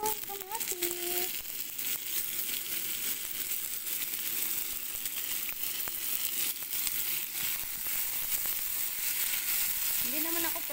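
Tomatoes dropped into squid adobo frying in a pan, a steady loud sizzle throughout with brief speech at the start and end.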